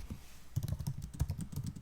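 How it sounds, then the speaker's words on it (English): Rapid clicking keystrokes on a computer keyboard, typing a new note in a note-taking app, start after a short quiet lead-in and continue in an uneven, close, moderately loud patter. "then I can start typing"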